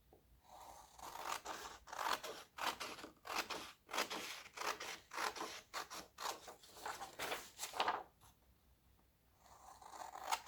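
Scissors cutting paper to trim excess from a handmade book page, a close run of repeated crisp snips and rasping cuts with brief pauses, fairly quiet and with no talk.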